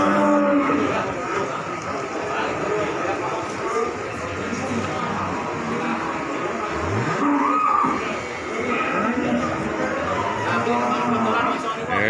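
Cattle lowing amid a busy crowd at the Paing cattle market in Pati, with steady chatter and talk throughout and occasional moos rising over the market din.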